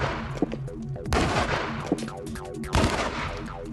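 Cannon shots striking an earth-backed stone wall, with several loud, sharp booming impacts at intervals, each followed by a rumble of crumbling debris, and no talking.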